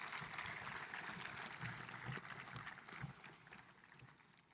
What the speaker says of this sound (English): Can we get another round of applause while the choir goes back and takes their seat